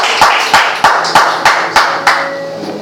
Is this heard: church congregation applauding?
yes